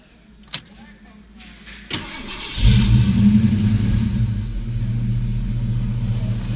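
A 1985 Mustang GT's keys jingle, the starter cranks and the V8 fires up, then settles into a loud, rumbling idle, close by at a dyno shop.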